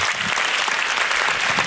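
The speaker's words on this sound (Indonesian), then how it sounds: "Tepuk tangan." Dense, loud audience applause at a stand-up comedy show, a continuous roar of many hands clapping close and full throughout the short burst.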